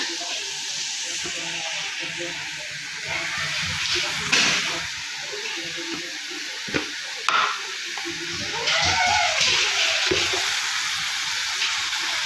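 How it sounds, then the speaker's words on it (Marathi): Fenugreek leaves being stirred and sautéed in a pan for a home-cooked methi bhaji, giving a steady soft sizzle with scraping stir strokes and occasional louder clatter, close and continuous. "छान असं परतून घ्यायचं"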